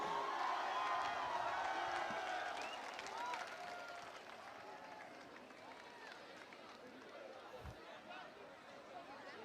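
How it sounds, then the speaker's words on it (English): A college event crowd applauds and cheers for the winning team, a burst of clapping with whoops and chatter that fades to a lower murmur over several seconds, with voices mixed in. "Come on, man, clap"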